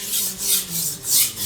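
Knife blade stroked back and forth on a Kuramaku Blue Black 320 grit sharpening stone, a near, steady rasping scrape that swells and fades in about three even strokes with no talk.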